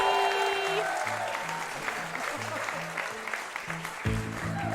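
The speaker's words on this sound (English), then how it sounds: "they are clapping like that's a fake ending" A live comedy podcast audience in Sydney claps steadily at the show's close while music plays, and the applause swells again near the end.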